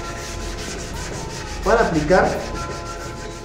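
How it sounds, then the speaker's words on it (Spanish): Wood being hand-sanded before varnishing, a steady scratchy rubbing with two stronger strokes in the middle, heard close and alone under a brief spoken remark. "ya acabamos de dar el tren de lijado"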